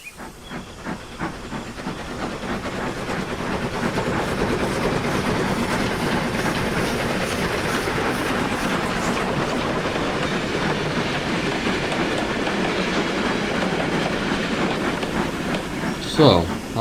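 Runaway railway wagons roll through a passing loop with a loud, continuous rumble and hiss that builds after a few seconds and holds steady, with faint rhythmic clicks from the wheels.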